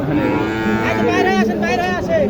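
A cow moos loudly and close by at a cattle market, a long drawn-out low call that rises and wavers, filling the clip.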